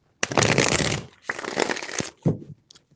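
Tarot cards shuffled by hand in several bursts of dry, papery riffling, close and fairly loud, with short pauses and a final quick flick near the end.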